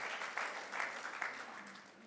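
A church congregation claps together at a Sunday service, a faint, dense patter of many hands that swells in a few bursts and carries on steadily throughout, with no one speaking.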